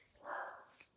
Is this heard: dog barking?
yes